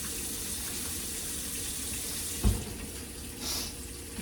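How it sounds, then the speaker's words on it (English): Kitchen tap water runs steadily into a sink while food is rinsed under it, a soft continuous hiss with one brief knock partway through and a slight surge near the end. "I'm gonna rinse these and get those all clean"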